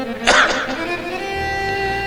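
A man coughs once, roughly and loudly, during a Hindu religious discourse, the cough close and brief, followed by a sustained tonal drone of background music.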